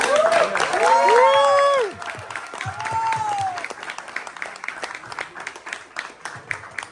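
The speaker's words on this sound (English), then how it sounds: "Let's give a round of applause to you." A film festival audience claps steadily, loud at first then thinning into scattered clapping, with cheers and voices rising over it early on.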